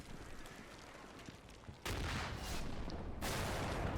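Artillery fire in the Combat Mission Shock Force 2 video game arrives as two loud, sustained blasts of rumbling impacts, heavy and close, layered over a steady background of distant battle noise.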